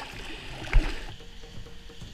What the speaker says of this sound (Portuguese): Aqui você pode ver um chuveiro natural caindo nas paredes.